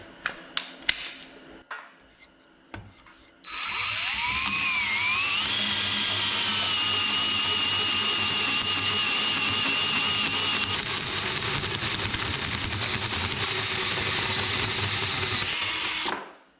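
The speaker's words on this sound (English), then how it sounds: "So you cut a hole in the wood first, clamp the wood down with the vise." A hole saw on a drill cuts a hole through wood clamped in a vise: a few sharp clicks, then a loud, continuous whirring drone that holds steady for about twelve seconds before stopping abruptly, with no speech.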